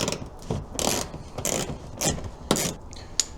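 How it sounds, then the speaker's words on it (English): A hand ratchet fitted with an 8mm adapter works a small bolt loose on a BMW F87 M2, giving bursts of bright clicking and rasping strokes in an uneven rhythm, close and moderately quiet, with no talk. "I got the 8mm adapter piece on to remove it, and we're just going to go ahead and take off the bolt."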